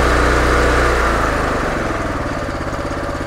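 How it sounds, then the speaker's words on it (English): A Honda IGX engine on an industrial pressure cleaner winds down from a loud roar to a slower, pulsing idle, the rhythmic chugging becoming distinct as it settles. "after a short delay, the engine will do its IGX thing and drop to idle."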